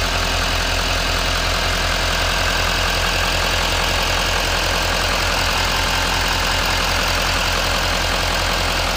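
A 6.6-liter diesel in a 2015 Chevy Silverado 2500 HD Z71 idles steadily up close, a loud rumbling clatter with an even rhythmic knock throughout.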